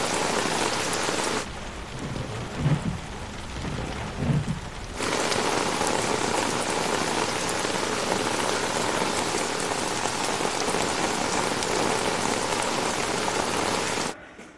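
Steady rain falls throughout, a dense hiss of drops on surfaces that fades briefly near the start with a couple of soft low thumps, then returns strong and continuous before cutting off at the end.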